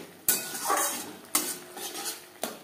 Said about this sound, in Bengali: হাই ফ্লেমে 2-3 মিনিট নাড়াচাড়া করে নেব।